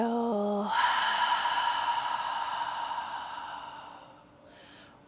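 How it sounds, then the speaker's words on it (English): A slow yoga exhale released through the mouth as a long, audible sigh of breath that fades gradually, close and clear, during a gentle yoga session. "again inhale. Exhale."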